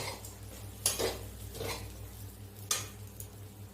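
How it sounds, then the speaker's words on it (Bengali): Fried chicken being tossed into chowmein in a pan, a few clanking scrapes of utensil against metal over a faint sizzle, close by. "এরপরে আমি এর সাথে ভেজে রাখা চিকেনগুলো দিয়ে দেবো। দিয়ে আমি এটা ভালো করে মিশিয়ে নেব।"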